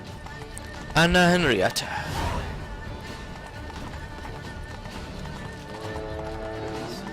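A horse named Roach galloping in The Witcher 3: Blood and Wine, steady hoofbeats running under a character's speech and a brief loud whinny near the start.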